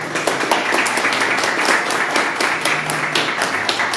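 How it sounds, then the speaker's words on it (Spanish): An audience at a talk or panel event applauds the speakers, a continuous, moderately dense clatter of hands clapping with a few sharper individual claps standing out, steady throughout. "pedirle varios aplausos para nuestros ponentes."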